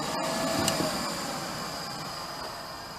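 Blower or feed motor in a junked Harmon pellet stove whirring steadily through a self-test, a constant broadband drone, fairly loud and close, with a few faint clicks.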